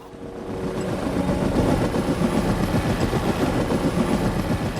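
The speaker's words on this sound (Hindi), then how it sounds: "अरे हेलीकॉप्टर आ गया" A low, throbbing engine drone with a rapid rotor-like pulse, rising quickly and then holding steady and fairly loud.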